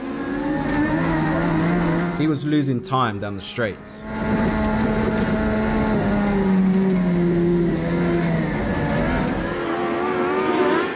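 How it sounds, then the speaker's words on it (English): A race car engine drones at high, steady revs on a speedway, hitting and holding against its rev limiter because of its gearing, with brief choppy bursts partway through and someone narrating over it. "the gearing was causing the engine to hit the limiter"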